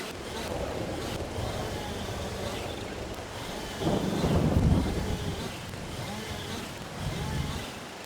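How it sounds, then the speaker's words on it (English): Heavy rain pours in Farming Simulator 22 as a dense, steady hiss, with a low rolling rumble of thunder swelling midway and again near the end. "Oh, the rain is really chucking it down now."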